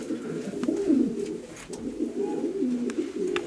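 A breeding pigeon coos close by in a series of low, throaty, warbling coos over a few seconds, with a soft ambient background.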